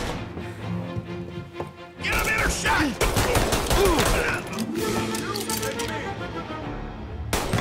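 Pistol shots from Mafia Definitive Edition crack in a quick irregular volley during an indoor shootout, loud and sharp, with voices and clattering game sounds mixed in.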